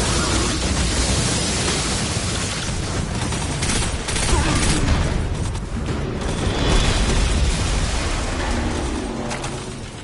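Dense, continuous rumbling blasts and booming explosions in a PS4 video game overlap into a loud roar of noise, with no clear breaks.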